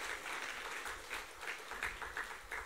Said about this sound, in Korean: 우리 다 같이 경의의 박수 부탁합니다.